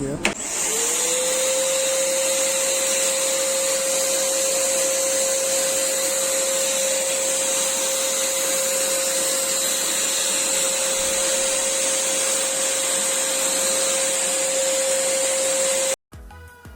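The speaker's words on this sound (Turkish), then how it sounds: "Makine tıpkı bir süpürge gibi ses çıkartıyor." A Paint Zoom electric paint spray gun whirs loudly and steadily with a constant high-pitched whine, running without pause for about sixteen seconds before cutting off abruptly.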